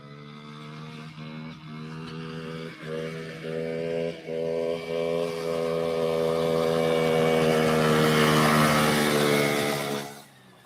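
A car engine at full speed in fifth gear, its tone steady and strong, rising slightly in pitch as the revs climb, then cutting off abruptly near the end.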